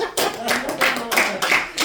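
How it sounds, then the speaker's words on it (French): A church congregation claps in a quick, steady rhythm to acclaim the Lord, the sharp bursts close and loud beneath voices singing or calling out. "Acclamez le Seigneur."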